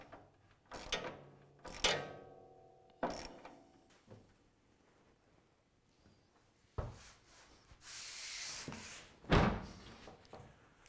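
A car hood is lowered and dropped shut during hood alignment: creaks and clanks from the hinges, then a loud metallic slam, with scattered clunks afterward and no voices.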